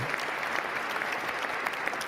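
Audience applause at a presidential inauguration: a dense, steady burst of clapping from a large crowd, fairly close and loud, lasting a couple of seconds without a break.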